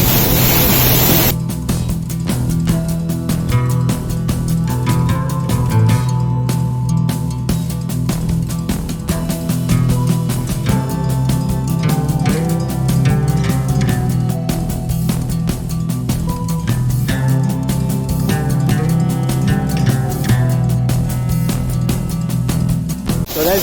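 The Thottikallu waterfall roars with a dense, continuous rush of falling water and spray, loud and close, steady for the whole stretch with a constant low rumble underneath.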